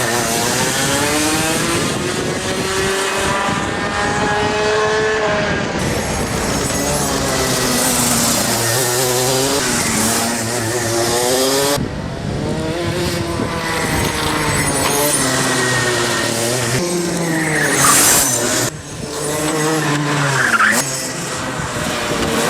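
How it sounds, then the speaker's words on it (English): A Rotax senior racing kart engine at speed on the Rye House track, heard up close: a loud, high, buzzing two-stroke whine that rises and falls steeply as it accelerates and brakes through corners, continuous and without talk. "how awesome the kart sounds and how ridiculously fast it goes"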